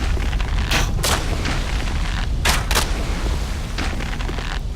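Shots fired at an enemy in Dark Souls 2, several sharp bursts scattered over a rumbling game background, two close together near the middle and others spaced apart.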